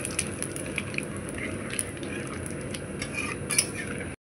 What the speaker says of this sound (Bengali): গোটা জিরে দেবো, ফোড়নটা ভালো করে নেব।